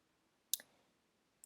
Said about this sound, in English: So you do that by clicking here on Page.